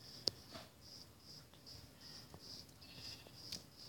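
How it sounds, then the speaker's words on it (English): Repeated sheep bleats in a blocky sandbox video game, a series of short, evenly spaced cries over a quiet background with no talking. "Come here, sheepy sheep."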